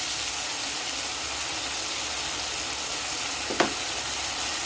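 Spice paste sizzles and fries steadily in a pan for a Kajoli fish curry, a constant hiss throughout with one brief clink of a utensil near the end.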